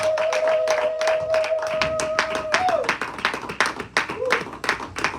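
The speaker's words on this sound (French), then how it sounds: "Applaud." A church congregation at a leaders' counselling conference in Dallas breaks into a burst of rhythmic clapping and applause, with a sustained tone and voices heard alongside the hands.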